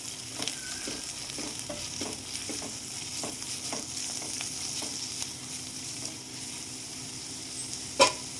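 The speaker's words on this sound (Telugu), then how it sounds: "వేడైన ఆయిల్లో వేసేద్దాం. కొంచెం ఇట్లాగా వేపుకుందాం." Dried gongura leaves fry in hot oil while being stirred, giving a steady soft sizzle broken by light scraping taps of the spoon, close and fairly quiet.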